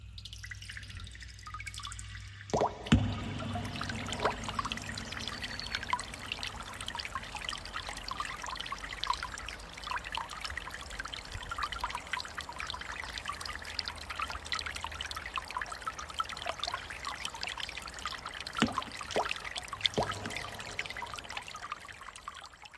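River water flows and trickles steadily with soft dripping and splashing, continuous and fairly quiet, with a few sharper splashes.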